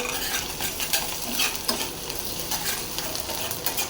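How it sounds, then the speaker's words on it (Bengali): Cumin seeds sizzle and crackle steadily in hot oil while tempering taro greens, a continuous close frying hiss with light stirring scrapes and no voices. "কচু শাকটা বাগার দিয়ে দেই একটু জিরা ফোড়ন দিই জিরা দিয়ে দিছি"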